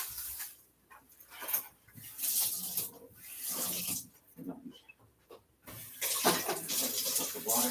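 A kitchen tap runs in bursts while dishes are rinsed after cooking a BBQ spicy mushroom wrap, the water hissing on and off close by with brief pauses between streams.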